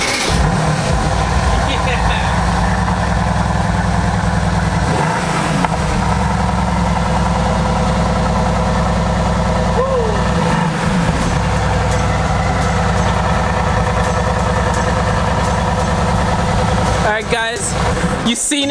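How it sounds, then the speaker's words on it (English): A 2016 Mercedes-AMG GT S sports car idles after a cold start. The engine gives a loud, close, deep and even rumble that holds steady throughout, with small shifts in pitch. "AMG GTS 2016 cold start"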